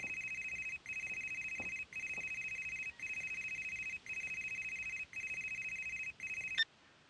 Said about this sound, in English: Cue the phone call.